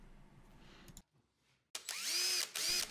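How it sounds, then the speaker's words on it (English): A power drill pre-drills a recess for a screw head in a wooden block. A low hum drops to near-silence, then a loud, steady high-pitched whine of the bit biting into wood carries to the end. "I'm pre-drilling a little space for the head of the screw because I want it to go below the surface"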